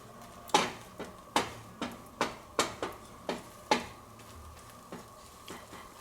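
A spatula scrapes and taps against a frying pan while an egg is scrambled, giving about ten fairly even clacks at roughly half-second spacing over a faint sizzle.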